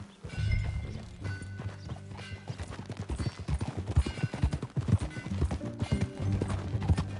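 Horse hooves clip-clop in a steady rhythmic gait in the video game Red Dead Redemption 2, close and moderately loud, with a faint snort and background ambience, no speech.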